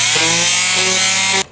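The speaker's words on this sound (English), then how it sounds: "Now I'm going to use my sander and sand down the edges just to give it a nice smooth" Power sander running on the edges of cut plywood pieces, a steady loud motor whine with faint pitch shifts as it works the wood, cutting off abruptly near the end.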